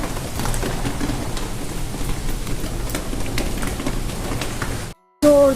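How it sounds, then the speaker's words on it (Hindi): Heavy rain pours down during a storm with strong winds, a steady, dense hiss close by that cuts off abruptly near the end before resuming. "जोरदार बारिश आ रही है इस टाइम।"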